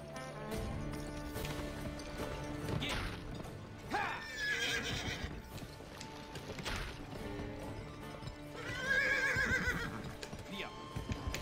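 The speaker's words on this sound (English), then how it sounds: "look at this, like the horse riding is ridiculous" Horse riding in the GameCube game 3/3 Gun, with whinnying neighs and clip-clopping hooves over a busy game soundtrack, rising in two louder bursts.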